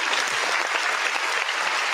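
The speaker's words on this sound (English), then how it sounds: "Clap it up to Jack." Dense audience applause, a steady wash of many hands clapping together at close range and fairly loud, holding evenly throughout without pauses.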